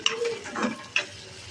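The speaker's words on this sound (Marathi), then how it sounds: "जिरे पण कांद्यासोबत आणि मिरचीसोबत चांगले असे भाजून घेतात" Cumin seeds roast in hot oil with onion and green chilli in a kadhai, giving a soft sizzle under a few brief spoon scrapes and taps, close and fairly quiet.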